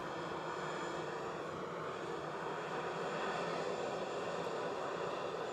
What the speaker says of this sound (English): One heavy will be departing, and then another heavy immediately touching down.